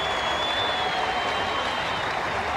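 Enthusiastic cricket crowd at a South Africa versus England test match applauding a run, a steady, dense wash of clapping that holds evenly through the moment without a break.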